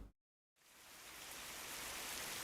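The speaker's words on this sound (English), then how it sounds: "I can hear the rain." Steady rain hisses loudly and evenly in a video game after a brief silent gap, the broadband wash swelling slightly and holding constant without voices.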